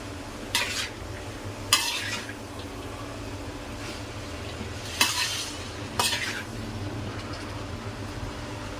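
Cabbage and prawns stir-fry in a pan with a low, constant sizzle beneath a handful of sharp metal spatula scrapes against the pan, spaced irregularly and close by, with no voices.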